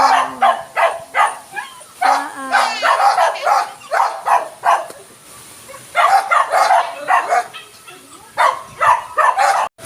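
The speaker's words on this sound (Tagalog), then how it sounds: "Ayan po aking aso." A dog barks and yips repeatedly in uneven bursts, fairly close, with a few whiny, whimpering notes mixed in.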